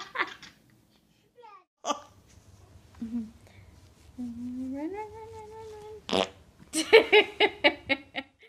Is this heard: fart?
yes